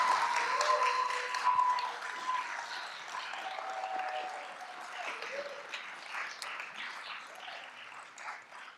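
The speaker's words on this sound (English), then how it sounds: "Just give like the biggest round of applause you can for the first 6 people" An audience at a racial equity summit applauds, a sustained round of clapping that starts strong and gradually tapers off, with some voices mixed in.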